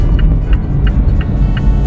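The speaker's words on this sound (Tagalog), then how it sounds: "Hala, ang bibilis ng mga sasakyan." Cars rush past on a road in a steady low rumble of engine and tire noise, with faint periodic ticks on top and no talking.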